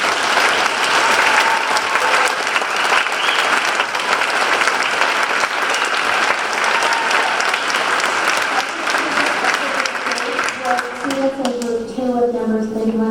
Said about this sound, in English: let's give a round of applause for this group